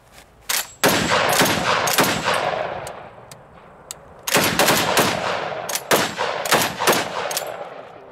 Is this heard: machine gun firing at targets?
yes